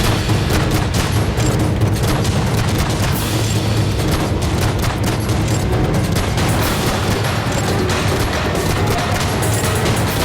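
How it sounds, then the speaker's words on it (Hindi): Bombing strikes on Iraq and Syria, heard as a constant loud rumble of blasts and booms with crackling gunfire-like bursts packed tightly together. "इराक और सीरिया पर बम बरसाए गए।"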